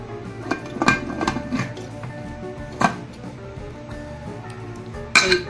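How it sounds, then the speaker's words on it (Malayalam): A pressure cooker lid is fitted and closed on chicken curry: a few close metallic clinks and knocks, clustered at the start, with a single one in the middle and a louder rattle near the end, over a quiet kitchen background. "ഇനി നമുക്ക് കുക്കർ അടച്ചു വെക്കാം."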